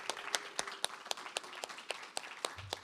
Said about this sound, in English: Let's have another round of applause for our presenters.